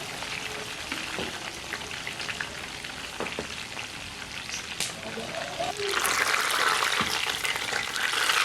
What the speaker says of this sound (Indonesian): Goreng ikan dulu.